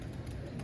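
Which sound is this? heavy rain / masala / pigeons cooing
pigeons cooing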